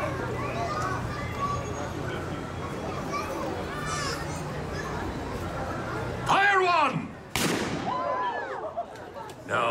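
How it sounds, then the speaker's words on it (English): Cannon blasts boom on the Disneyland pirate ship ride, two sharp loud bangs ringing out over chattering, playing children and crowd noise. "For the cannon she be a mite loud, and the gunner's aim be a mite poor."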